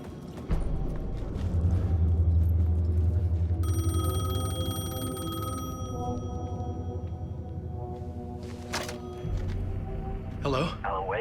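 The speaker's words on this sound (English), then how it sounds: "The payphone was ringing." A payphone rings in the video game Alan Wake 2, its repeated metallic bell tones sounding over a dense, droning ambient game soundscape with low rumble throughout.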